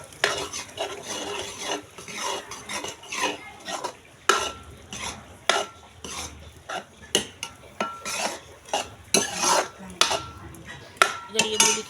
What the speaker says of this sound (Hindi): तो ग्रेवी अच्छे से पक गई है और फिर इसमें ये मूली को डाल के और फिर कम से कम 10-15 मिनट के लिए वापस पकाएंगे।